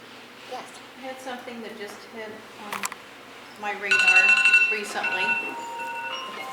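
A phone alarm ringtone sounds during a veterans' discussion meeting, a bright melodic chiming that rises and repeats in the second half while people talk over it.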